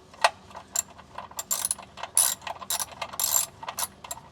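A torque wrench tightens the oil drain bolt to 40 newton meters on an E70 BMW X5 M during an oil change after an engine build, giving a close series of sharp, irregular ratchet clicks.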